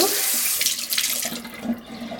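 Tap water runs steadily and splashes as it rinses salt residue from a cast iron pan in a sink, close up and uninterrupted.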